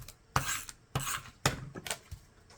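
Tape runner swiped three times across a planner page: short, quiet rasping rubs in an even rhythm, each a brief scratchy stroke, close up and alone.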